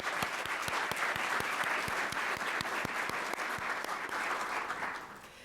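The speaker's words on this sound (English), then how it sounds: "If we could just give a round of applause." A faculty awards convocation audience applauds special guests, a full room of steady clapping with sharp nearby claps standing out, fading slightly toward the end.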